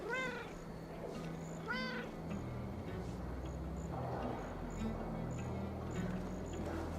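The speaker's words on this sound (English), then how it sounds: "that old sea cat has run wild, scaring the chickens and scratching me" A ship's cat in Assassin's Creed Valhalla meows twice in a row, drawn-out and fairly clear, over a steady game ambience with low rumbling background sound and no talk.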